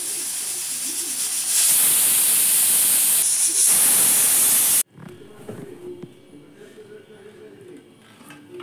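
A pressure cooker whistle releasing steam while Sona Masuri rice cooks for veg pulao, a loud hissing rush that swells and then cuts off abruptly, followed by quieter kitchen background sounds.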